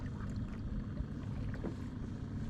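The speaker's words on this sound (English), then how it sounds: "Let's just gently paddle." Gentle paddle strokes from a kayak while out fishing, soft water swishes and splashes over a low, steady rumble of wind and water, with no voices.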